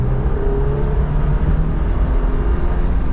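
A Suzuki Jimny JB33 engine drones as it accelerates in second gear toward 60 km/h, a steady rising motor hum heard from inside the cabin.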